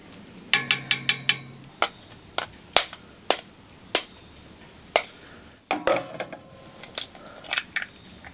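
Crickets and other insects chirping at dusk beside the largest lake in Mindoro, Philippines, a steady high drone broken by sharp clicks and brief chirps, with a few scattered bursts over faint background.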